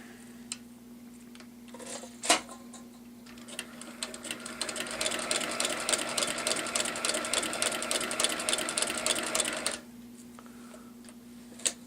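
A domestic sewing machine stitches long even rows of stitches on a straight item, a steady rapid mechanical whirring with ticking needle strokes running for about six seconds, with quieter clicks before and after.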